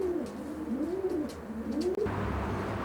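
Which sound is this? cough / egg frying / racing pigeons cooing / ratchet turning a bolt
racing pigeons cooing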